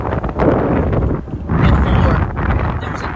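Gusty wind buffets the microphone outdoors in a new housing development, in low rumbling bursts, loud and close, with a brief lull partway through.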